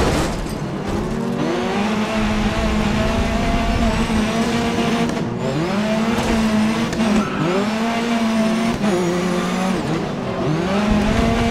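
Race cars roar around the track in the driving game GRID Autosport, engines whining up and down through gear changes with loud, continuous revving and faint tire squeal.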